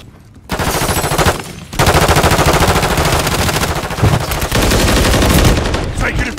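Rapid machine gun fire in the video game Modern Warfare 3, loud, close sustained bursts with brief pauses between them.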